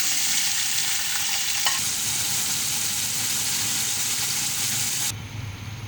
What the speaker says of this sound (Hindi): अब ये मैं सारी चीज़ें, खड़े मसाले डाल रही हूँ इसके अंदर।